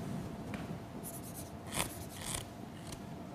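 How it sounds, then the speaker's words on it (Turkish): A pen scratching a signature onto a playing card during a magic show: brief, quiet scribbling strokes in a few short bursts, close up, with no talk. "O karta bir de imza atalım."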